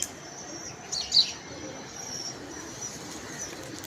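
Pigeons on a house rooftop give a brief, faint coo and chirp early on, set against a steady low outdoor background with no other clear sounds.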